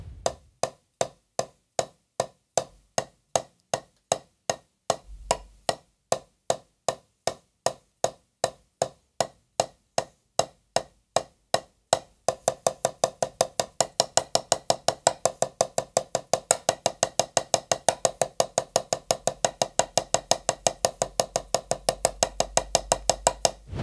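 Crisp drum strokes in a steady, evenly spaced pattern, then a faster, denser run of rapid push-pull strokes, eight per hand, continuing alone to the end.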